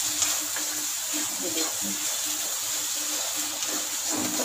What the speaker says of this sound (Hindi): ये जो करेला हमने फ्राई करके रखा था और फिर इसे थोड़ी देर के लिए हम भूजेंगे